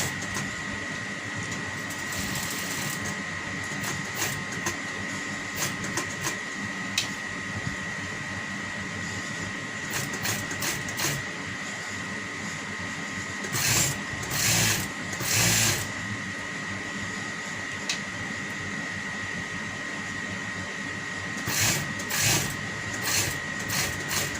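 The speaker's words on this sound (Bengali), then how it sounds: "এবার সেম নিচের কাপড়টা বসিয়ে সেম টাইম যেরকম আমরা কলার সেলাই করি আমরা এইভাবেই সেলাই করি।" A sewing machine runs steadily at close range while stitching piping onto a panjabi collar, with a continuous motor whine and a few brief louder bursts of faster stitching.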